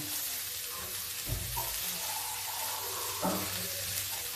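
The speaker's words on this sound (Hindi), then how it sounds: "अब डाल दें थोड़ा सा पानी।" A little water is poured into a pan of soft hybrid tomatoes salted for cooking, giving a faint sizzling hiss over steady background noise, with two short splashy thumps.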